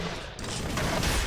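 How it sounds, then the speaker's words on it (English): Explosions in the video game Dead Cells crackle and boom in a dense, continuous barrage of gunfire-like bursts, loud and close, with no talking over them. "The explosions are so good."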